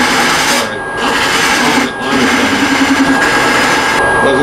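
A wood lathe spins steadily while a Harbor Freight angled tool cuts a dovetail tenon, giving a close, continuous whir with a scraping cut that dips briefly twice as the tool pauses.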